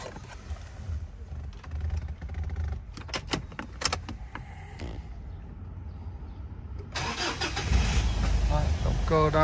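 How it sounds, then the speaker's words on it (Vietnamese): A 2012 Mitsubishi Triton pickup's 2.5-litre diesel engine cranks and catches, then settles into a loud rumbling idle, preceded by clicks and rattles, with people talking over it. "em nổ tiếng động cơ cho quý anh chị nghe về cái phần động cơ của chiếc xe"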